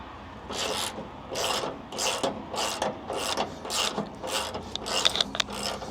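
A socket wrench fitted with a 3/4 socket ratchets new nuts down on the shocks of a Peterbilt 389 truck, giving about nine rhythmic bursts of close, crisp clicking with no talking.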